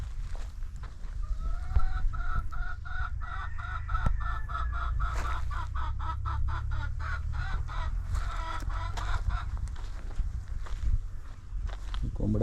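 Chickens cluck in a steady, repeated pattern on a village farm, close by, with faint scuffling and other birds mixed in under a constant low hum, and no talk.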